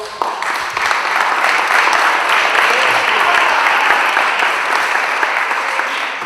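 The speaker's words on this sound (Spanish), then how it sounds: "Aplauso." Audience at an education panel applauding an introduced speaker, loud, dense and sustained clapping from many hands throughout, close and even.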